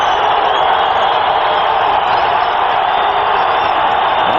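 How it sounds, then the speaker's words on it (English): A loud, dense crowd roar fills the air continuously, a sustained wash of many voices from a large stadium audience at a 1998 Seattle Seahawks at Denver Broncos football game. "The crowd is going to be loud now."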